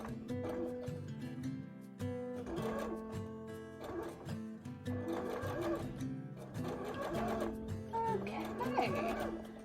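A sewing machine stitches fabric for puffy pumpkin shorts, running slowly around the edge of a fabric circle. Its motor whirs up close in bursts that start, stop and restart, with brief pauses between runs.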